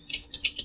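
Fingers tap out a short burst of about five quick, soft keystrokes on a computer keyboard, faint and close.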